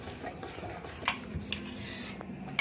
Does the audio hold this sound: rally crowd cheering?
no